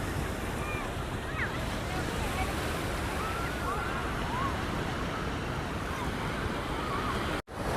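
Ocean surf at Kovalam Beach near Chennai, among moored boats, washes in a continuous loud roar mixed with gusting wind buffeting the microphone, ending in a brief sudden dropout.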